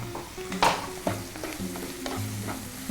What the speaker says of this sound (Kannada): ಸ್ವಲ್ಪ ಬೇಯಲಿ ಇದು ಕಡಲೆ ಬೀಜ